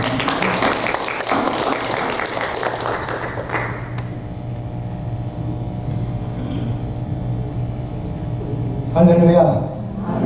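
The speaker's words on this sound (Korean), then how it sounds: "격려의 박수 부탁드립니다." A church congregation at a 45th anniversary worship service breaks into applause for a few seconds, then the clapping dies away into a quiet room hum with faint murmuring.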